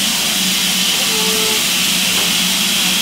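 A train standing at a station gives off a steady, loud hiss of steam that fills the whole clip, with a faint tonal whistle-like note briefly in the middle.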